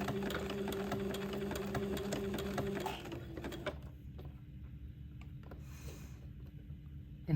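A sewing machine zigzag-stitches thin lace together at a slow, even pace, its soft mechanical whir and rapid needle ticks running steadily before easing off to a quieter hum.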